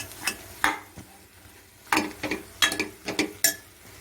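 Vegetables for sambar, including brinjal and drumstick, stirred with a quarter spoon of salt in a pot: irregular scraping, clattering stirs in short bursts, close and fairly quiet, with no talk.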